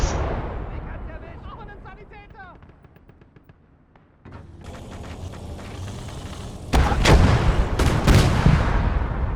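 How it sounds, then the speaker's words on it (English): Cannon blasts from a tank firing high-explosive rounds in the Gates of Hell multiplayer war game, a loud boom crashing in near the end after quieter battlefield noise and a brief lull. "HE shell is already loaded and miss."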